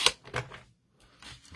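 Card stock cut for a fold card, a few crisp snipping clicks close up with a short pause between cuts.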